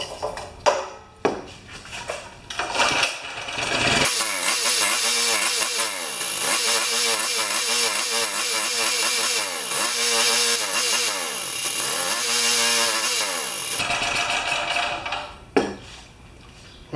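A Champion portable generator with a carburetor problem runs after choke-and-pull starting, its engine droning steadily and loudly for about ten seconds with a rhythmic pulsing, then cutting off, with scattered handling noises before and after.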